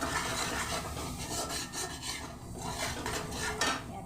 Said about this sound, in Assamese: টমেটো চচ অকণমান দি এইখিনি হিলাই দিওঁ, মিক্স কৰোঁ আৰু